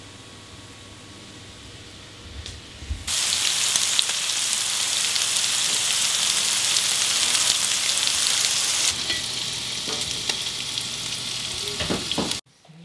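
Bacon and eggs frying in a pan give a loud, dense hiss that starts abruptly and runs for about nine seconds before easing slightly. The sound then cuts off sharply, and no voices are heard.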